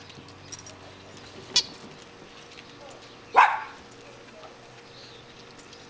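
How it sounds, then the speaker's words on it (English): A dog gives one sharp bark partway through, with a few faint clinks and rustles around it in an otherwise quiet room. "They hear the neighbors, that's why they're barking."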